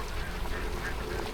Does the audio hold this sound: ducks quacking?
yes